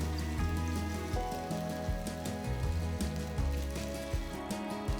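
Vermicelli and vegetable pancake batter frying in ghee on a hot pan, a steady dense crackling sizzle like rain, close and continuous throughout with no talking.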